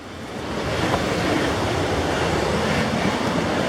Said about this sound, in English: there's a beautiful waterfall and a hidden wonder near Sierra City